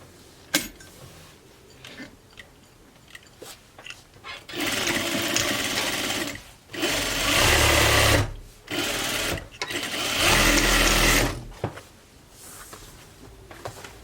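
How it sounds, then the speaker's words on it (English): A sewing machine stitching the seam of a reversible grocery tote bag, several bursts of rapid mechanical whirring of one to two seconds each, separated by short pauses and small handling clicks, close and clear with no talk. "you will do like a 1/2 inch stitch all the way down"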